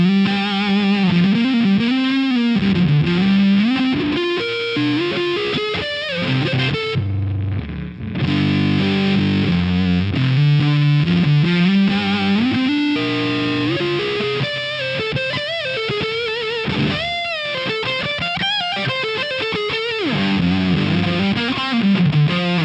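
Electric guitar through a Stone Deaf Fig Fumb fuzz pedal with its gate backed off: thick, buzzing distorted riffs with sliding, wavering notes, loud and continuous, briefly cutting out midway before resuming, with no talking.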